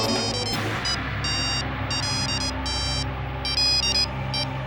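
Telephone ringing in a household scene from a Hindi TV drama, repeated bursts of electronic trilling tones over a low background music bed, no talking.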